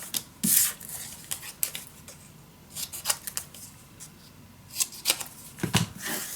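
Scissors snip the corners off paper for a scrapbook double folio, making a handful of crisp, close cuts separated by short pauses and quiet paper rustling.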